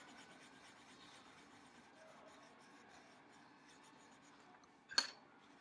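Pencil or crayon scratching steadily on construction paper while green eyes are drawn, a soft continuous rubbing close to the mic, ending with a single sharp tap or knock near the end.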